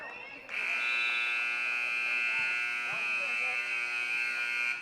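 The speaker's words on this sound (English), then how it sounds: "He's just waiting for the buzzer to sound." A high school basketball game-ending buzzer at Thatcher vs Marana sounds a loud, steady electronic drone that starts abruptly and holds unbroken for several seconds, with faint arena background beneath.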